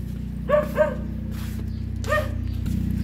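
A dog barks in a few short bursts, two quick yaps followed by another after a pause, over a steady low engine-like hum.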